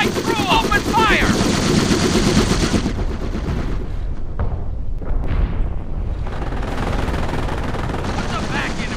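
Dense gunfire in the World War II strategy game Company of Heroes, near Montebourg in 1944, with continuous machine-gun bursts and booming impacts layered over shouted battle voices and engine rumble, steady and loud throughout.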